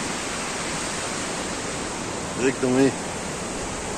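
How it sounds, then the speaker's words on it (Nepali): Water rushing steadily at Mini Gosaikunda, a constant loud broadband hiss of flowing water throughout, with someone speaking briefly over it. "मिनी गोसाइकुण्ड यता पानी सलसल्ती बगिरहेछ।"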